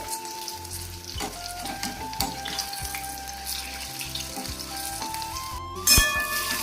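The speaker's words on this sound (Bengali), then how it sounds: "কুমড়ো ফুলে বড়াটা ভাজবো, বড়া ভাজার জন্য কড়াই বসিয়ে দিয়েছি" Pumpkin flower fritters dipped in gram flour batter frying in oil in a kadai, a continuous bubbling sizzle with occasional clinks and a brief louder rush near the end.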